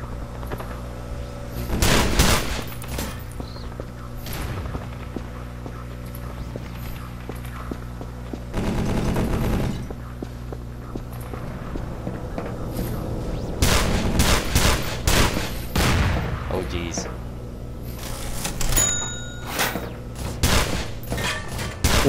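Machine gun turret fire in the game E.Y.E., heard as repeated loud bursts of rapid automatic gunfire over a constant background hum, with footsteps and mechanical clanks between volleys.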